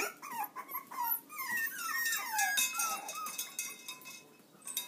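Three-week-old Divine X Danzig puppies whimper and squeak in a busy litter, high wavering cries overlapping one another, close and fairly loud, with no talk.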